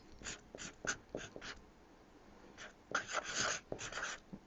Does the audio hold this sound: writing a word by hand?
yes